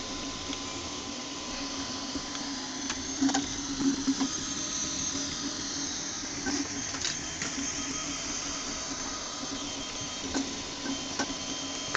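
An eMAKER Huxley 3D printer runs steadily, its stepper motors whirring and buzzing at a low, even level with occasional faint clicks, with no voices present.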